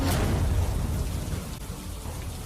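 Steady rain pours down in Bharuch, Gujarat, during the monsoon, a dense, continuous hiss of drops on surfaces. It stays loud and even throughout, with no voices.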